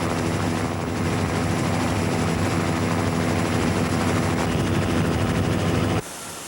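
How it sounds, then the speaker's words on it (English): Helicopter flying over a mountain memorial site in the Peak District, a loud, steady rotor-and-engine drone that holds without a break for about six seconds before cutting away to a lower, quieter background. "a helicopter came to the rescue"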